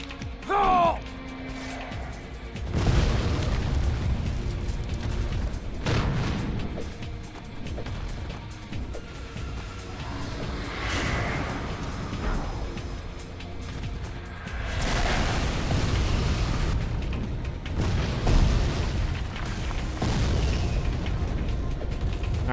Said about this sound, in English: Here's a couple more rockets.